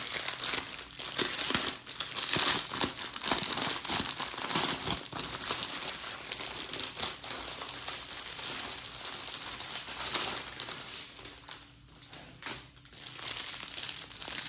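A plastic bag of round diamond painting drills is torn open, with steady crinkling and rustling of the plastic close up, sometimes sharper and sometimes softer, continuing for about fifteen seconds without talk.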